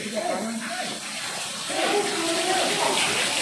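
Hot spring water pours steadily from the Pancuran Tujuh spouts at a natural bathing site in Tasikmalaya, a constant close rush of water while voices talk over it.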